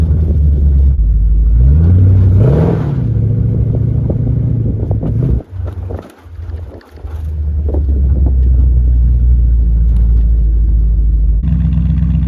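A 1963 Dodge Dart convertible driving, its engine rumbling loud and close with wind buffeting the microphone, a couple of brief dips as it shifts, then pulling steadily on.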